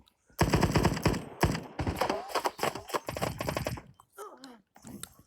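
Video game gunfire in a kill-count match, dense rapid bursts of automatic shots in quick succession that stop near the end, leaving sparse softer clicks and effects; no talking.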